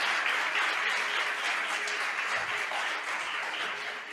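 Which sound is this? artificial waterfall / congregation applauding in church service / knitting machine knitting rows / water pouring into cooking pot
congregation applauding in church service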